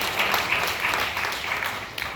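Loud, sustained applause from a large audience at a Bloody Sunday commemoration event, many hands clapping in a dense, steady wash that swells and eases slightly without a break.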